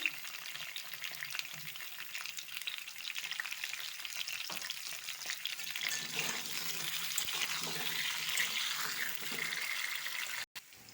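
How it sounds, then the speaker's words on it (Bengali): Pointed gourd (potol) pieces frying in hot oil and being turned over, a steady crackling sizzle with light scraping and stirring throughout, close and fairly loud, with no talking. "এভাবে ভালো করে একটু উল্টিয়ে পাল্টে ভেজে নিতে হবে"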